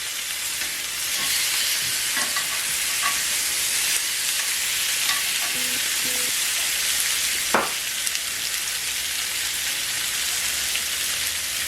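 Food fries in a pan for a vegan, low-carb keto recipe, a steady bright sizzle crackling close and continuous, with a few small clinks and a sharp tap partway through.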